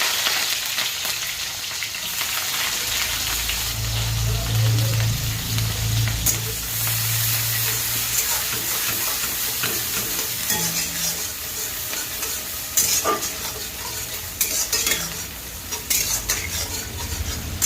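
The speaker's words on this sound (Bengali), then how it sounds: "সেগুলো লাল লাল করে ভেজে নেবো" Chopped onion and green chilies frying in hot oil with black cumin seeds, a steady loud sizzle throughout with occasional stirring scrapes and utensil clinks, no talking.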